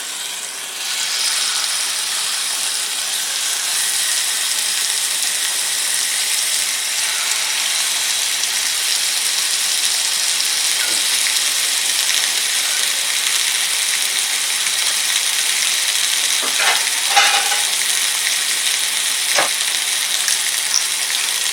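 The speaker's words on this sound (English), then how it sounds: "And I just want to sear these real quick." Pork chops searing in a hot pan produce a loud, continuous close-up sizzle that holds steady throughout, with a few faint clinks near the end and no talking.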